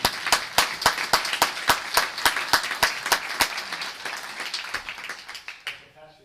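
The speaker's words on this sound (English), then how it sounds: "You can applaud for that." A lecture audience breaks into applause with a dense wash of many hands clapping. A few sharp, regular claps stand out near the front, and the sound fades gradually toward the end.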